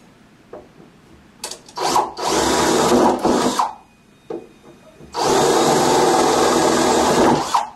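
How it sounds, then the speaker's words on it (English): A power drill whines in loud bursts, drilling out old metal rivets with scraping and rattling between runs, the last burst long and steady. "I'm just going to drill up the old rivets."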